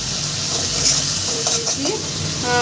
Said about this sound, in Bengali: এবার মশলাটা সুন্দর করে আমি কষিয়ে নেব